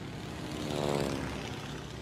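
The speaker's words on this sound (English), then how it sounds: "Will you help Tico steer his plane so we can parachute down to Star Mountain and find Disco Star?" A cartoon propeller plane flies steadily past, its buzzing engine drone swelling toward the middle and easing off again over about two seconds, with no talk.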